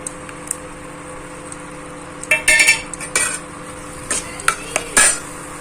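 Ground tomato cooking with fried onions and garlic in a pan, a low steady sizzle under several sharp bursts of a utensil scraping and clinking against the metal as it is stirred.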